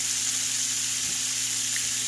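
Shrimp sizzle steadily while frying in a pan, a continuous close hiss that stays even and unbroken under a faint low hum, with no voices.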